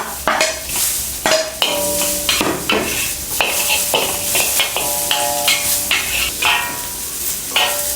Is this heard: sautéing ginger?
yes